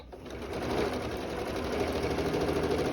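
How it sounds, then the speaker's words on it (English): A sewing machine stitches quilt binding in a steady continuous whir, the motor running close and even for a few seconds without pause. "I'm going to just sew it right there"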